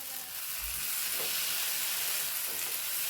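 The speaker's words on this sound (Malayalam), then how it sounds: "അത് ഉള്ളി ഫ്രൈ ആയിരിക്കുന്നു, മസാല റെഡി ആയിരിക്കുന്നേ." Onion sizzles with masala in a pan while fish is pan-roasted, a steady bright frying hiss running close and even for a few seconds with no talk.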